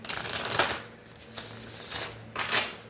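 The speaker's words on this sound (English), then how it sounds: "Let's do 3 shuffles, and then we're not going to cut them." Tarot cards riffle-shuffled in three quick bursts, crisp fluttering rattles close up with short pauses between them.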